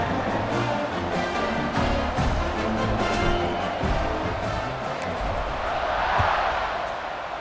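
A stadium crowd in the EA Sports College Football 26 video game roars in a broad, continuous wash of noise that swells toward the end, with no clear voices on top.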